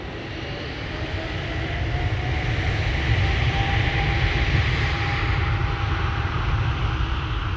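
A KLM Boeing 777 rolls for takeoff at Amsterdam Schiphol, its jet roar building and then holding as a loud, broad, sustained rumble with a thin engine whine, with no voices.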